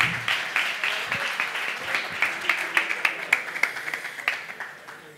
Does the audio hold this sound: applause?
yes